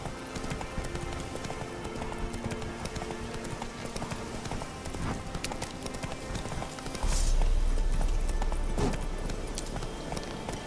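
Horse hooves gallop in The Witcher 3 video game, a quick, even clip-clop over game ambience, with a deeper rumble joining after about seven seconds.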